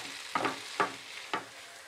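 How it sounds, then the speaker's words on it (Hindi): Vegetable spring roll stuffing with green onion being tossed in a pan with the gas off, three quiet scraping stir strokes at even intervals over a faint background hiss. "तो गैस बंद कर देंगे और इसको मिक्स कर देंगे।"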